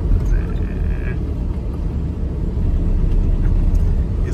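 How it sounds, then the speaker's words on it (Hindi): Strong wind blows outdoors during a drive, a heavy continuous rumbling buffet with low gusty roar and faint road noise beneath, loud and steady throughout. "बाहर हवा है बहुत तेज, मतलब आजकल हवा काफ़ी तेज चल रही है"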